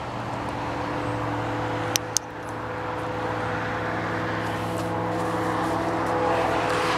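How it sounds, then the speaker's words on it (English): Steady roar of highway traffic beside Highway 2 at night, a continuous broadband rumble of cars passing with a low engine hum, a couple of sharp clicks midway and the wash growing slightly louder toward the end. "I would have thought this time of the day, the traffic would have been a lot more quiet, but it's not."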